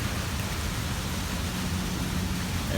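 Steady Florida rain falls without a break, a dense, even hiss with a low rumbling undertone, close and unvarying throughout.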